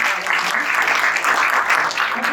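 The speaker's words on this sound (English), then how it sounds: "Can we give a round of applause once again?" Crowd applause at an outdoor Expo 2020 Dubai ceremony for the Malaysian Pavilion, a dense steady clapping that fills the whole stretch at even loudness.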